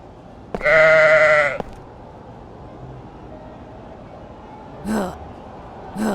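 A goat bleats once in the video game Crowns and Pawns, a loud, sustained wavering cry near the start, followed later by two short breathy bursts in a quiet town scene.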